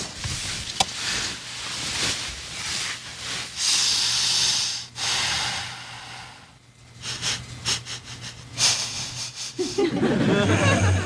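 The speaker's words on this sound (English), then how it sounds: "stop sniffing the pillow" Loud, repeated sniffs and snorting breaths into a pillow come in bursts close by, with short pauses between them and a brief breathy chuckle near the end.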